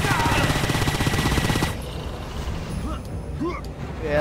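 Rapid bursts of gunfire in the video game Painkiller Hell and Damnation rattle loudly for about a second and a half, then give way to quieter game ambience with faint scattered tones.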